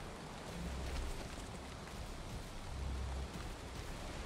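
Steady rain falls in the video game Valheim, a dense, even hiss with low rumbling swells and no talking.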